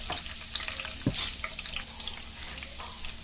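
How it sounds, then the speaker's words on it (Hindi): Curry leaves and garlic fry in hot oil with a steady bright sizzle, stirred now and then with a short scrape. It sounds close and fairly quiet, with no talking. "ये देखिए हमने करी पत्ता डाले, तेल डाले, और ये डाले लहसुन डाले।"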